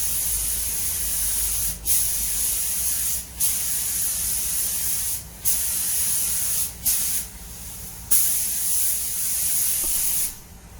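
A spray gun lays base coat paint onto a Mk7 Ford Fiesta's repaired rusty wheel arch in a series of loud hissing bursts, each a second or two long, separated by brief pauses.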